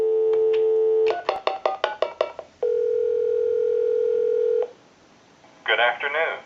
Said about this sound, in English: So I'll use the speakerphone, and we'll hit memory 2.